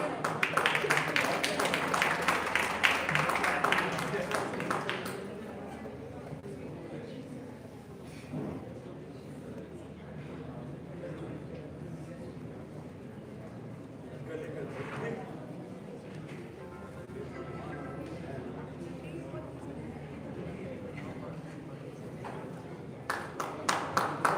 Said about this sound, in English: Give a big round of applause, guys.